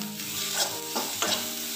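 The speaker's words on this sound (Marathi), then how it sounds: "छान असं आपण हे टोमॅटो मऊ होईपर्यंत जरा भाजणार आहोत" Tomatoes and grated beetroot frying in a pan for a dhaba-style paneer masala: a continuous close sizzle with a few soft scraping sweeps as the mixture is stirred.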